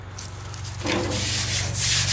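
A hand rubs steadily across a smooth, rust-free steel fender on a 1955 Chevy truck, a close, continuous dry swishing that grows a little louder toward the end.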